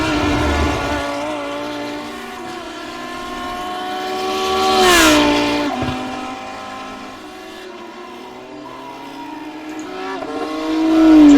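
A Lamborghini GT3 race car at Road Atlanta in a racing video game, its engine loud and continuous, climbing in pitch to a peak around the middle, dropping on a shift, then revving up again; no talk.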